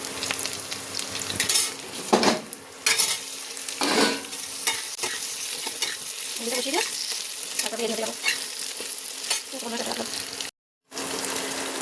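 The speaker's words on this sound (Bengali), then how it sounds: "ঘুগনিটা মশলা দিয়ে কষে নিচ্ছি" Ghugni stir-fried with spices in a pan produces a close, steady sizzle, with repeated scraping strokes and clanks of the spatula at uneven intervals and a short silent gap near the end.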